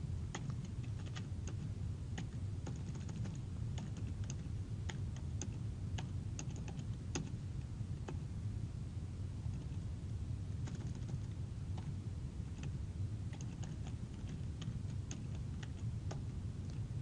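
Rapid, steady clicking of keys on a computer keyboard while someone types code, close and continuous with crisp individual keystrokes throughout and no talking.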